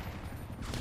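Enemy gunfire in the video game Black Ops Cold War, a quiet, muffled burst of rapid shots heard at a distance, brief and low in level.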